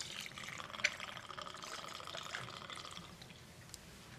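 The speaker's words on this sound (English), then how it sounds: "I'm going to pour a large measure" Bombay Sapphire gin pours into a mixing glass with a soft, steady trickle and a faint splash, close but quiet, tapering off near the end.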